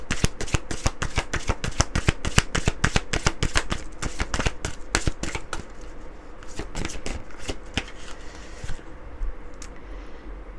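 Oracle cards are shuffled by hand in dense, crisp slapping and riffling taps that come rapidly at first, then thin out toward the end, close and alone.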